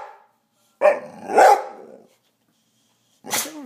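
A dog barks twice in quick succession, close and loud, then a short pause before one more sharp bark.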